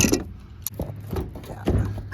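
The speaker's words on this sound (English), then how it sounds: "So I'm gonna try and just rip it off of there with the channel locks here." Metal channel-lock pliers gripping and yanking a loose part off a Cargo Glide truck-bed slide, giving a few close, sharp clicks and scraping knocks in short bursts.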